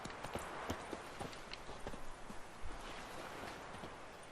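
Hooves of Roach, Geralt's horse in The Witcher 3, clip-clopping in a quick, even rhythm at close range, steady and unaccompanied by talk.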